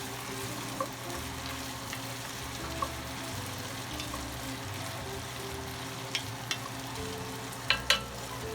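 A spoon stirs chopped carrots into a pot of New England clam chowder, giving a soft, steady scraping and simmering hiss with a few faint clinks against the pot.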